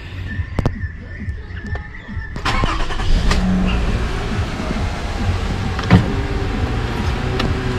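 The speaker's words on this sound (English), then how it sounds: "Now we start the engine." A 2006 Toyota Aurion V6 engine with alternator problems cranks with a few sharp clicks, then settles into a steady, close idle hum with occasional knocks.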